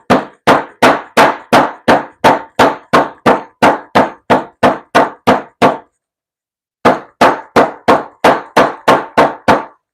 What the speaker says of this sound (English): So I crush my seeds.